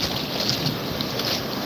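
Steady roaring wash of ocean surf at Topsail Beach, a continuous broadband rush with wind buffeting the microphone and no distinct individual breaks.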